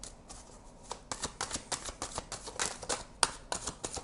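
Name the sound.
shuffling tarot cards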